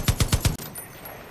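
Rapid gunfire in Far Cry 5, aimed at fish: four loud, evenly spaced shots in quick succession, then a fading ringing tail with no talk.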